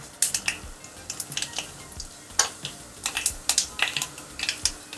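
Mustard seeds and cumin crackling in hot oil for vermicelli upma, a fast scatter of sharp close pops and spits over a soft sizzle.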